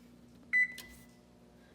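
Oven control panel set to preheat to 350, a single short electronic beep followed by a soft click and faint quiet hum.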